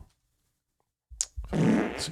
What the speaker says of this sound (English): Hit the fart button.